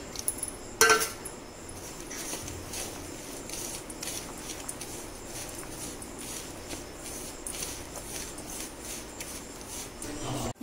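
Salt, curry leaves and coriander leaves are stirred by hand into a vadai batter in a bowl, giving soft, steady squishing and light rubbing, with a sharper clink near the start.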